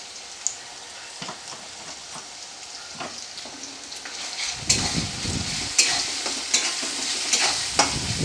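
Spices with salt, turmeric, cumin powder, cardamom and bay leaves stirred and frying in a pan for a Bengali chicken curry with potatoes; a steady sizzle swells louder midway, with repeated scraping strokes of the spoon, close up and without talk.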